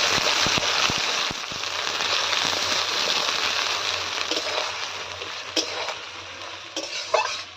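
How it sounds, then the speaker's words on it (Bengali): Two large chopped onions frying in oil for a chicken curry, a bright, close sizzle with several quick clinks of a spoon against the pan early on and steady stirring throughout. "সেই পেঁয়াজটা আমি দিয়ে দিচ্ছি তেলেতে। এবার পেঁয়াজটা আমরা একটু হালকা ভেজে নেব।"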